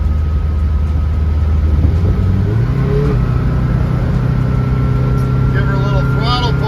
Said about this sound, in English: give her a little throttle pull here